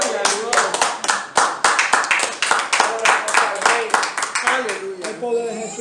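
A church congregation claps together in a steady, energetic rhythm, sharp loud hand claps repeating through the whole stretch amid the crowd's noise.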